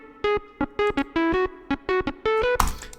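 A 90s-style synth treated with an EMT plate reverb plays a short run of staccato melodic notes, each tone clean and pitched with a short wet tail, ending in a brief noisy burst.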